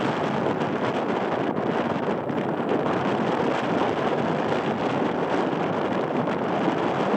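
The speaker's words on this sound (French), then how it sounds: "c'est un test pour voir comment ça rend avec un vent assez fort" Strong wind buffeting the microphone of a GoPro 8 with Media Mod held outdoors, a constant loud roaring rumble throughout with no talking.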